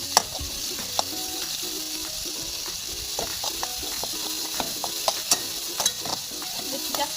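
Onion, tomato and coarsely ground chili frying in a pan for a potato chutney, a steady sizzle broken by repeated scraping stirs, moderately loud with no voices.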